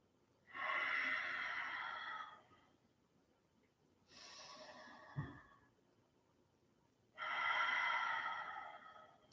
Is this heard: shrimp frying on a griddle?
no